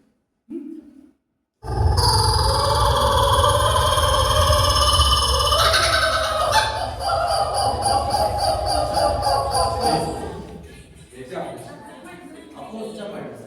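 A loud kookaburra call plays as a long, rising and falling chattering cackle that lasts several seconds and then fades, with people speaking before and after it at a school quiz.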